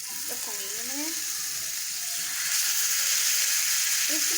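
Fish pieces hitting a hot tawa coated with melted ghee set off a broad, steady sizzle that swells louder partway through, with a few faint clinks of a utensil near the start.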